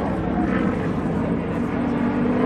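Yak-52 aircraft flying an air display, a steady loud engine drone continuous throughout, with no talk over it.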